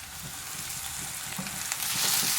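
Chopped tomato hits a hot pan of Chettinad chicken curry, raising a dense, close sizzle that holds steady and grows slightly louder toward the end, with faint stirring scrapes and no talk.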